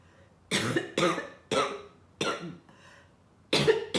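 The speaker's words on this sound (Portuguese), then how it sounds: "Ainda tô com tosse" A bout of harsh coughing, five bursts in quick succession with a short pause before the last, close and loud.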